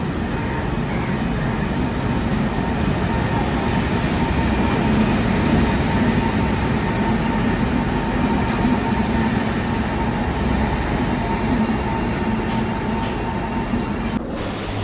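Seshadri Express train departing towards Kakinada, heard from aboard: a constant heavy rumble of wheels and carriage noise, loud and steady throughout, with no speech.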